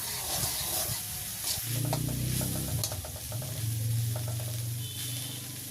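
Tomato and a beetroot-cabbage fry sizzle in a pan while a utensil stirs and scrapes through the mixture, a close, continuous crackle with uneven stirring knocks.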